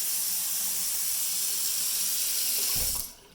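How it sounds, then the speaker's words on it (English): Kitchen faucet running with strong pressure, a steady loud rushing hiss that continues unbroken, then cuts off abruptly when the tap is shut near the end. "Nice looking faucet. Appears to have good water pressure."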